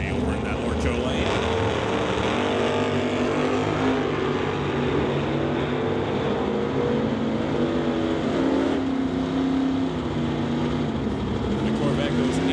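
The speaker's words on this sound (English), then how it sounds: "Darren Bust will bring up his Chevy Nova from 1968 out of Sydney, BC to race the Corvette" A 1968 Chevy Nova from Sydney, BC drag races a Corvette, with loud sustained engine roar and droning exhaust at the strip, while an announcer talks over it throughout.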